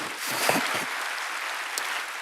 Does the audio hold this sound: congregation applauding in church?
yes